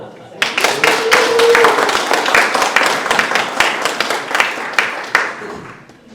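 An audience at a forum claps in a burst that swells quickly, holds with distinct individual claps standing out, then thins and fades; a voice briefly carries over the clapping near the start.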